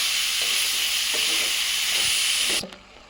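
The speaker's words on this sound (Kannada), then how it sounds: "2 ಪ್ಯಾಕೆಟ್ ಮಶ್ರೂಮ್ ತಗೊಂಡಿದ್ದೆ, ಅದನ್ನು ಫ್ರೈ ಮಾಡ್ತಾ ಇದ್ದೀನಿ" Mushrooms fry in a pan with a loud, even sizzling hiss and faint stirring knocks underneath, until the sizzle cuts off abruptly near the end, leaving quieter background.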